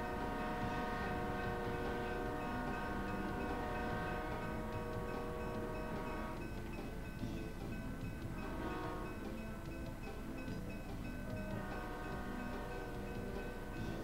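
A train rolls past a railway crossing, sounding long, loud horn blasts over a steady roar of wheels and rail noise that continues for the whole stretch, with no voices.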